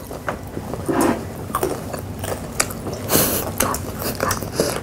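Crunchy fried chicken gizzards being bitten and chewed up close, a run of crisp irregular crunches and squishy mouth sounds, with no talk.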